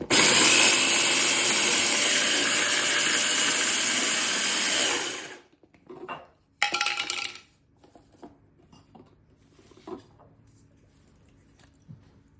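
A blender blitzes fresh herbs for chimichurri with a loud, dense whirring roar for about five seconds, then stops abruptly, followed by a few scattered knocks and clatters of the jar and lid.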